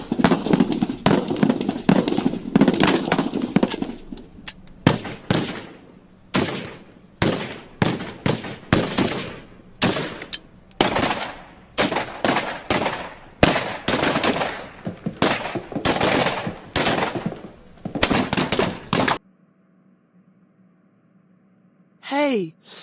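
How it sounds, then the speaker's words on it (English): Rifle firing bullets in rapid, loud bursts, shot after shot for about nineteen seconds with voices mixed in, then a near-silent stretch and a brief final sound. "I can shoot bullets out of the rifle"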